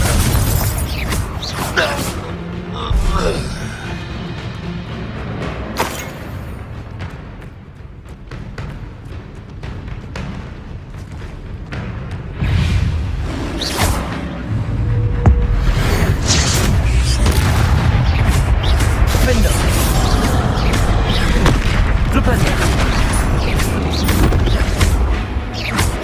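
Confringo blasting spells detonate in the Hogwarts Legacy video game as heavy booms and crashing bursts, with clattering debris and dense combat noise that grows louder and more continuous in the later part, and voices shouting throughout.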